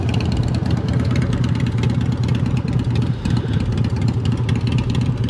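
A 1450cc Harley-Davidson motorcycle with an American aftermarket exhaust idles loudly and steadily close by, a continuous deep rumble throughout with no pauses.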